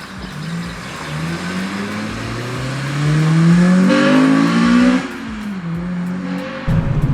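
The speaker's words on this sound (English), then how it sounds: "I've not yet driven this Civic Type R. Let me jump in it, go for a little drive in it" A low-mileage pre-facelift Honda Civic Type R pulls away close by, its engine note climbing loudly through the revs before easing off, then settling as it keeps driving.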